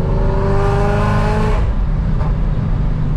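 A modified Ford Mustang GT engine revs hard, a loud, steady tone that drops abruptly to a rougher, lower rumble about halfway through.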